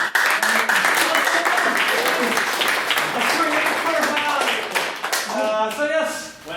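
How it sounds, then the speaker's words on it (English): Debate-hall audience applauding loudly and continuously, dense clapping filling the room before thinning out toward the end, with voices mixed in. "can I get a big round of applause for Mr."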